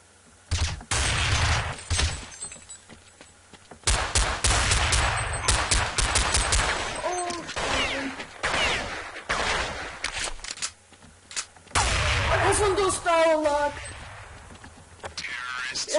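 Gunfire in Counter-Strike 1.6, sharp rifle shots and rapid automatic bursts crackling in irregular clusters, loud and close, with someone talking over the game sounds.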